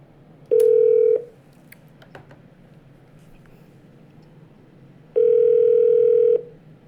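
Two loud, steady office-phone tones about a second each, with a few seconds of quiet background between them and no talking.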